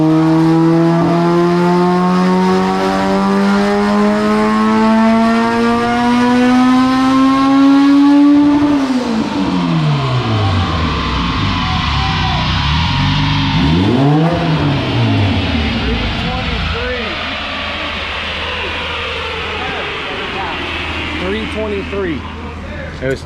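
Boosted HEMI engine under pressure revving hard, pitch climbing steadily as it spools up, then dropping and surging again in loud swooping sweeps, with people talking over it.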